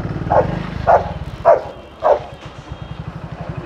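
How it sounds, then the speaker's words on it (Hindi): A dog barks four sharp times beside a highway, each bark loud and close, spaced about half a second apart over a low, pulsing engine hum. "भौंक किस पे रहा है"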